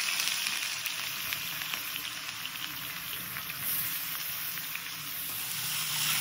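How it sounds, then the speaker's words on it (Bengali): Onions fry in hot oil with cumin, chilli, bay leaf and cinnamon, giving a continuous close sizzle with light crackles. "পেঁয়াজটা কতক্ষণ ভাজতে হবে?"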